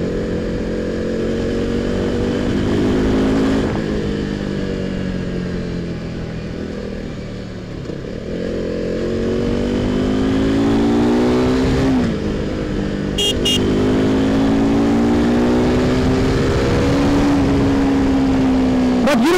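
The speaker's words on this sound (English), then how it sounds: "I'm pushing the machine now, and I feel that she's much more forgiving than the Duke 390." KTM RC 390 sport motorcycle ridden fast through city traffic, its single-cylinder engine loud and close, rising through the revs in several pulls with brief dips at gear changes and steady wind rush underneath.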